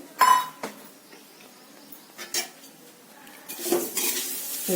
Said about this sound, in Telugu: ఇలా నూనె వేసేసి అట్లా కలిపి కలిపెట్టుకోవడం అనమాట